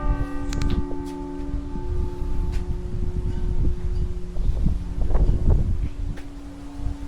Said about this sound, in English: You guys hear that? Those are the bells.